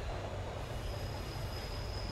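A train rolls along in the video game Train 113, a steady low rumble of wheels on rails with a thin, sustained high whine above it, continuous and close, with no one talking.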